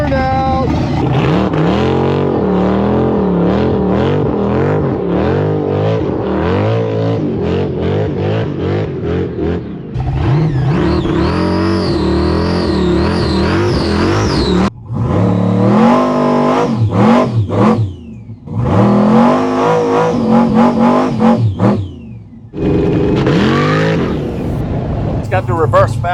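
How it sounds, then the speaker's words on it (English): A tiny 1957 Nash with a 1000-horsepower engine revs hard, its engine note rising and falling repeatedly before a loud high-pitched screaming run as it does a burnout, with brief gaps and people talking nearby. "I gotta hear it. If I own that, it's gonna whine at me every time. That's right. We're gonna do a burnout."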